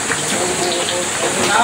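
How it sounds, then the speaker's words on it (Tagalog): Dense, steady hiss of heavy rain close by on a small chicken farm, continuous with no pauses, with a voice speaking over it. "Lakas ang ulan eh."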